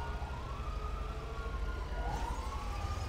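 In GTA V, an ambulance responds code 3 with its siren on. The siren gives a fairly quiet, distant, sweeping wail over a low background rumble.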